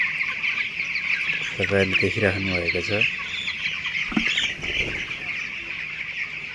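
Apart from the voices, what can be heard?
19-day-old broiler chickens clucking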